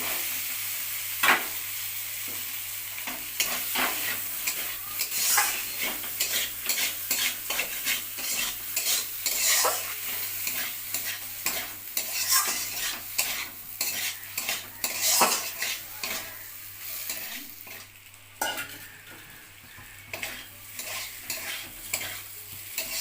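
Egg and potato fry together in a pan under steady stirring, a spoon scraping and clinking against the metal in a busy irregular rhythm over a constant sizzle, close and fairly loud with no talk.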